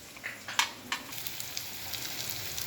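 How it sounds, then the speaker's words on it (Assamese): Fish frying in a pan of oil for an Assamese fish curry makes a continuous soft sizzle and crackle with a few sharper pops and spatters, close by and fairly quiet, without talk. "গোটেইখিনি মাছ ফ্ৰাই কৰা হৈ গ'ল।"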